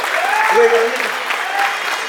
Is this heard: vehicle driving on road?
no